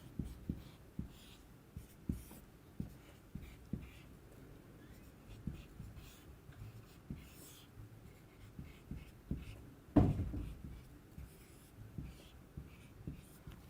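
Marker or chalk scraping across a classroom board in a run of short, regular strokes, close and moderately loud, with one heavier knock partway through; no talking.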